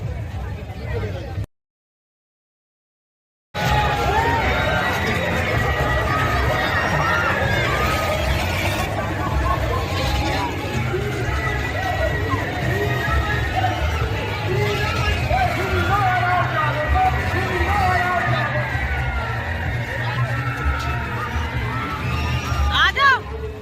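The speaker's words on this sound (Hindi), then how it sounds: "भीड़ हो रही है गाइस, मेले में बहुत भीड़।" A dense crowd hubbub fills the Navkush fair near the Red Fort in Chandni Chowk, a steady babble of many voices and movement with scattered shouts, interrupted once by a brief gap of silence near the start.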